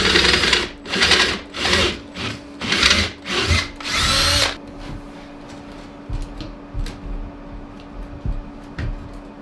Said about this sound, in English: I'm gonna drill a hole through it